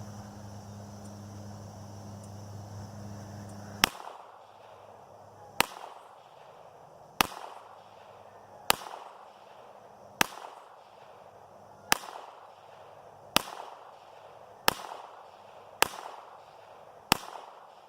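Ruger Mark IV Competition pistol firing at a range: ten sharp, loud single shots spaced a second or two apart after a few seconds of steady background hum.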